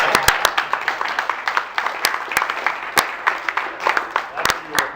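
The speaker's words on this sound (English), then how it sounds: "We need a round of applause." A small group claps at a retirement gathering, scattered, uneven hand claps close by with sharp individual smacks, mixed with voices talking throughout.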